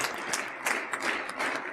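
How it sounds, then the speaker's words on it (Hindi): An audience at a spiritual talk in a school setting claps, soft, fairly faint scattered applause with uneven bursts over a couple of seconds. "एक बार ताली बजाओ उनके लिए"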